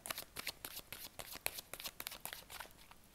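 A deck of playing cards being cut and handled at close range, with a rapid run of crisp papery riffles, snaps and flicks, quiet and unbroken by talk.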